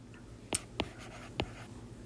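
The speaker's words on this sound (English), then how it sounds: "I'm going to go up here and write that." Handwriting during a math lesson on linear demand modeling: three short, separate scratchy strokes, quiet and close, with no speech.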